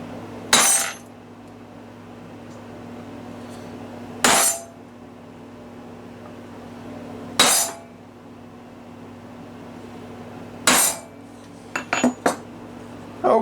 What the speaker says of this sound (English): take my regular center punch and go ahead and center punch the